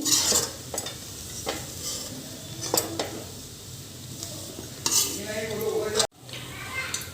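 Dry coconut roasting in a pan for Solapuri kala masala, with repeated scraping strokes of a spoon stirring through it over a faint background sizzle, close and fairly steady, with a brief break near the end.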